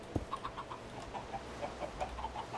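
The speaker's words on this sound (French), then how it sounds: "Après, est-ce qu'on tue les poulets ou est-ce qu'on en profite?" Several Minecraft chickens cluck softly in a short series of faint, evenly spaced calls, heard alone without talk.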